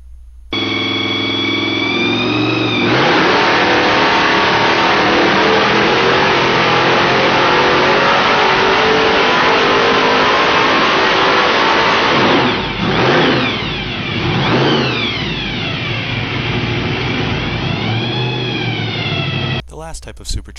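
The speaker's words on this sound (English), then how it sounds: "This video is of a small block Ford engine with a roots blower mounted on top of it." A small block Ford engine with a Roots supercharger mounted on top runs loud and close, a sustained mechanical roar that swoops up and down in revs near the end before cutting off.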